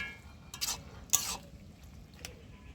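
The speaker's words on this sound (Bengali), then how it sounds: "এইবার আমি এটা ঘেঁটে আমি নামিয়ে নেব" A spoon stirs a spiced mixed-vegetable pumpkin curry in a pan, giving two or three short scraping strokes up close over a faint low background.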